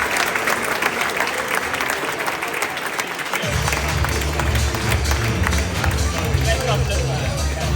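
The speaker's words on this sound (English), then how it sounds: "So massive round of applause for that." Awards-ceremony audience applauding steadily for about eight seconds, a dense wash of clapping and crowd noise, with a low music bed entering partway through.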